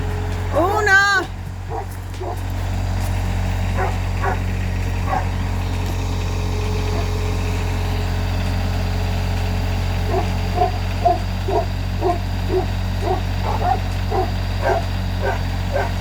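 Dogs bark and yip in repeated short bursts near a barn and paddock under construction, over a constant low machine drone, with a voice calling out at the start.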